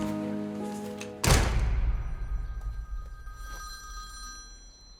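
A telephone bell rings indoors, set off by a sharp loud thump, then decays into a fading ringing tone with faint background hum.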